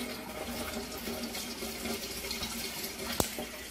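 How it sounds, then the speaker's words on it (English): Portable washing machine draining water, a steady close rush of flowing liquid with a single sharp knock near the end, no talking. "it's draining"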